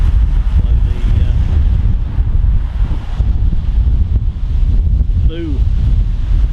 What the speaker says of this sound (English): That's how strong the wind is.